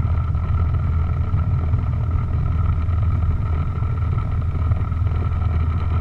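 A small propeller airplane engine running rough while taxiing in a crosswind at Lubbock International Airport, giving a steady, close, low droning rumble that holds unchanged throughout with no talk over it.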